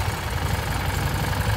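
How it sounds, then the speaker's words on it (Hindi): An almost 800 cc Harley-Davidson motorcycle engine runs with a steady, loud, close rumble. Its dense low throb holds even for the whole stretch, and no one speaks. "ये तो ऑलमोस्ट 800 cc की गाड़ी है"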